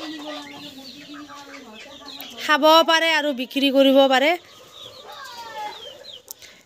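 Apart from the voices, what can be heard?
chickens clucking on a home farm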